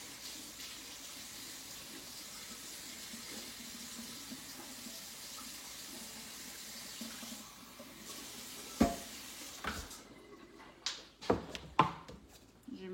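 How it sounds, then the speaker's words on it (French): About a quarter cup of water is poured into a thick green avocado smoothie in a blender jar, a soft low splashing trickle that ends with a few sharp knocks and clatters. "Je mets à peu près un quart de tasse d'eau."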